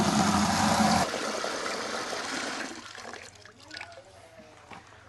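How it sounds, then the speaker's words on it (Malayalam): Water poured into a bucket beside a backyard fish pond, a loud rushing stream for about a second, then a fading splash and trickle with scattered drips. "അങ്ങനെ നമ്മൾ ബക്കറ്റിൽ വെള്ളം എടുത്തിട്ടുണ്ട്"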